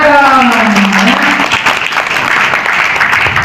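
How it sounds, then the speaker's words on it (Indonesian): Applause from a business seminar audience, loud continuous clapping throughout, with a voice audible at the start. "Oke, tepuk tangan dong."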